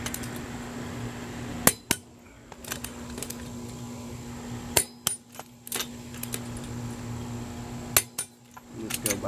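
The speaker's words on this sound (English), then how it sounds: "I'm just going to be torquing this to about 100 foot-pounds here" A torque wrench tightening the wheel lug nuts on a 2012–2018 Ford Focus, with sharp metallic clicks in short clusters spread over a quiet garage hum, close by.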